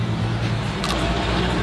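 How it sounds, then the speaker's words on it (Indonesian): A truck passes by, a steady, close, loud rumble with broad noise throughout. "Ketutupan suara truk nih."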